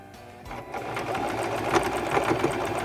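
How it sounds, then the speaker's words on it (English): A Singer 1512 Promise II sewing machine stitches the final side of a buttonhole, its needle mechanism whirring in a steady, fast, even rhythm up close after a brief quiet start. "we're going to turn to step 4 and the final step of our buttonhole"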